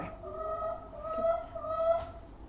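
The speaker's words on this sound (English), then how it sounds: "It's our house chicken. You're just going to have to ignore her." A pet house chicken clucks indoors, a run of soft, tonal, drawn-out clucks and murmurs close to the microphone with no talk over them.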